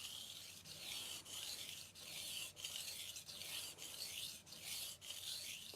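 A softer steel knife dragged across a 1000 grit Morihei Hishiboshi whetstone, giving a faint, steady scraping rasp in repeated strokes with short pauses roughly every half second, alone and close.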